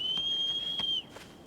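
In the video game Shadow of the Colossus, a single sustained whistle calls the horse: one clear, steady high tone held for about a second, then cut off, with faint background ambience and no speech.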